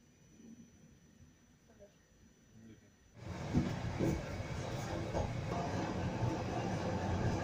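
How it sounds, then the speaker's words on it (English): Heard from inside a passenger train heading east through Poland, a quiet carriage gives way about three seconds in to a loud, steady rumble and roar of the moving train that continues to the end. "heading eastwards on a train through Poland"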